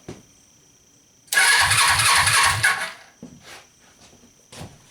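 A Suzuki engine cranks and fires, running loudly and roughly for about a second and a half before cutting out, followed by a few brief, weaker sputters. There is no speech.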